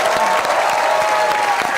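An audience claps in a dense, continuous burst, loud and close throughout.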